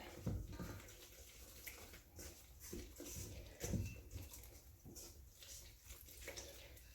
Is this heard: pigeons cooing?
no